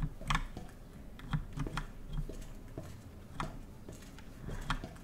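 Typewriter keys in a horror video game clack in short irregular bursts with light mechanical ticks, moderately close but soft against a dim room ambience, with no voices.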